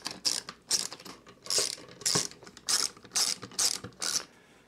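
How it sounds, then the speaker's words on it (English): Phillips head screws being backed out of the bottom cover of an Aiffro K100 NAS, a rapid series of close ratcheting clicks in short bursts, with no talking. "we can see we have 4 Phillips head screws that we need to take out"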